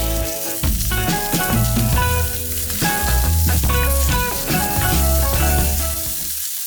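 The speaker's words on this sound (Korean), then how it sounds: "기름을 두르지 않은 팬에 스팸을 앞뒤로 노릇하게 구워주세요" Slices of Spam frying in a dry pan without oil, giving a loud, continuous sizzle with crackling pops and some clattering throughout.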